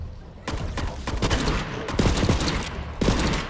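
Rapid gunfire cracks in quick bursts in Borderlands 3, a dense string of loud, close shots through most of the stretch, with little talking.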